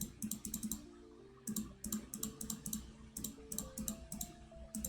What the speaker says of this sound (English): I keep clicking the ones they call.